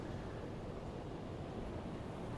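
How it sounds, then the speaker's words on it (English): Calm Atlantic Ocean swell in the submarine game UBOAT, a steady low wash of waves and wind at even loudness with no voices, seemingly heard from a Type VIIC/41 U-boat at sea. "Very lovely Atlantic Ocean,"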